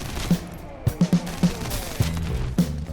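Scattered gunshots from The First Descendant pop in a loose, uneven rhythm, about eight distinct bangs over game sounds, moderately loud.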